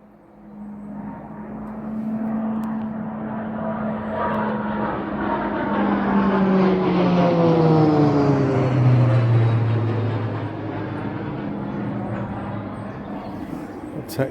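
A Texan trainer aircraft passes overhead, its propeller engine drone swelling to a loud peak and then fading away, with the pitch dropping as it goes by. Someone talks briefly in the background.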